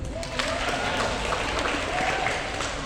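Brief, steady applause from a seminar audience, a dense wash of clapping held at an even level throughout.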